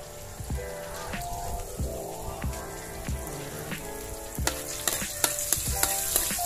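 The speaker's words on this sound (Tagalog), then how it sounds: "Butter pala yung gagamitin natin panglisa sa sisig para mas manamnam" Pork sisig sizzling loudly in butter while being sautéed, a dense crackling fry with repeated clacks of a utensil against the pan, close and without talk.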